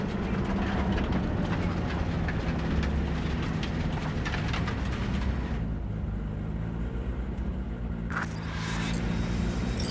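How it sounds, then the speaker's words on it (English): A train passing in the Cyberpunk 2077 video game, a loud, continuous rumbling roar with rattling that thins out partway through and then swells again, heard close with no talking. "maybe we should just hijack the train"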